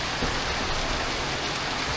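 Heavy typhoon rain pours down steadily in the Philippines, a dense, continuous roar of drops hitting surfaces nearby, with no voices.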